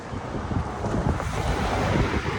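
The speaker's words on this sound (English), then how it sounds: "It's just one of them days where the wind is strong and it feels good." Strong wind blowing outdoors on a walk, a steady loud broadband roar buffeting the microphone with gusty swells throughout, no voices.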